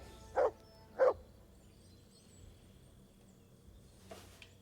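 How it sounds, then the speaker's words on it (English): A dog in the video game Kingdom Come: Deliverance II gives two quick barks close by, pauses, then lets out a softer third bark after a few seconds of quiet. "Stop barking."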